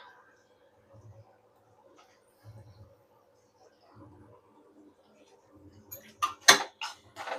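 Potatoes tipped into a pan of oil-fried spices while cooking a Maharashtrian pavta bhaji, heard as a cluster of clattering pan and utensil knocks near the end after quiet low murmurs of speech.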